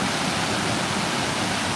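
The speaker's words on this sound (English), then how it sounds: "The river of destruction." River rushing in flood during Tropical Storm Calvin in Hilo, Hawaii, a dense, steady roar of fast water filling the short stretch with no voices.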